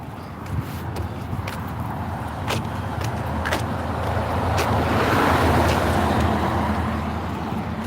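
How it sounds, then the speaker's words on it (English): Cars speed past on a road outdoors, a steady loud rushing whoosh that swells and fades over several seconds, mixed with wind buffeting the microphone and a few sharp ticks. "cars driving by so goddamn fast"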